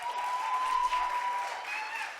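Audience applause at an HIV and adolescence youth advocacy session, a steady, even wash of many hands clapping throughout, moderately loud with no break.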